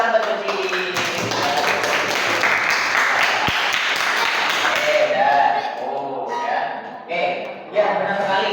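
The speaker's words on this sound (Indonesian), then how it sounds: "tepuk tangan buat Suci." Students in a classroom clap for a classmate, a loud, brisk burst of many hands that lasts about five seconds before trailing off into scattered claps, a few thumps and voices talking.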